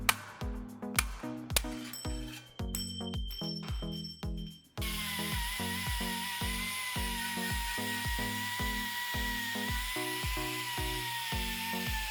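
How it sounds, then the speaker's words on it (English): A power tool whines steadily for most of the clip while the steel seat tube of a custom fatbike is sanded down to bare metal, running over rhythmic background music. "That's why I'm sanding the seat tube down to bare metal so I can silver solder the mounts in place."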